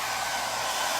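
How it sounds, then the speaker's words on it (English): A hair dryer blows steadily and close by, drying milk paint on a furniture piece, a constant broadband whoosh running alone for about a second. "I've got my hairdryer right here with me,"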